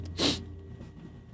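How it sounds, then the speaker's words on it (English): A person blows their nose once in a short, forceful burst, followed by quiet room sound. "What if I blow my nose?"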